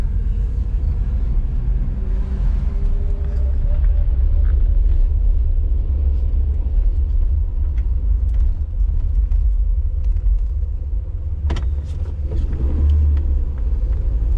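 A 1966 Dodge Coronet with a 225 Slant 6 engine and three-on-the-tree manual drives along, heard from inside as a loud, steady low rumble with a few knocks and bumps.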